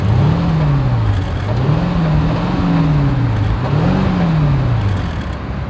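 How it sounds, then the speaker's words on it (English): Exhaust note of a 2021 Mercedes-Maybach S580, a deep steady rumble rising and falling through several smooth revs, close and alone without talk. "As always, here is that exhaust clip."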